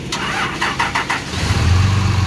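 An RV engine cranks in several quick bursts, then catches and settles into a steady, loud low idle close by, with no talk.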